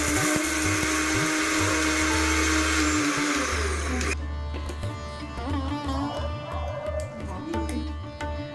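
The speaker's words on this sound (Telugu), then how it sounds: "మెంతులతో పాటుగా ఆవాలు 50 గ్రాములు మరియు 20 వెల్లుల్లి రెబ్బలు వేసుకొని మెత్తగా మిక్సీ పట్టుకుందాం" A kitchen mixer grinder grinds fenugreek seeds, mustard seeds and garlic cloves in its jar, a loud, steady high-pitched whir with a strained motor drone, cutting to softer background noise about halfway through.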